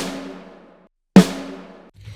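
A higher-pitched snare drum: the tail of one hit rings out, then a single crisp strike cracks and decays, with a faint rustle afterward.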